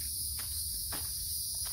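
Continuous shrill cricket chirping at sundown rings out steadily, with a few soft thuds like footsteps underneath.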